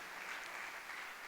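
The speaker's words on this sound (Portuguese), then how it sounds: "Agora você pode aplaudir a Jesus, glória a Deus por isso" A church congregation at a summer camp service applauds for Jesus, producing a brief, even burst of steady clapping with no voices over it.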